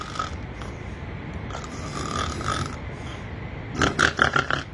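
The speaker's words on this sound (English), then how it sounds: "They just snoring so cutely." People snoring over a phone call, a low hissing rasp of breathing with slow rhythmic snores, then a burst of several quick snorting grunts near the end, somewhat muffled and close.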